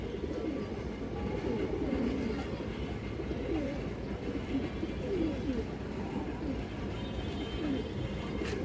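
Pigeons at a farm keep up a constant murmuring coo, several birds overlapping in a dense, soft rolling chorus with steady background hum.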